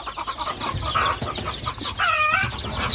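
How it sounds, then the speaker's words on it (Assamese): Local free-range chickens cluck and chatter close by, several overlapping calls in quick succession with one rising squawk partway through. "এইটো মোৰ সম্পূৰ্ণ আমাৰ থলুৱা মুৰ্গী।"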